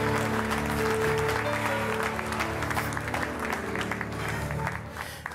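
Congregation applauding during a church service, with sustained, dense clapping from many people running throughout. A low musical drone sits beneath the applause, which fades slightly near the end.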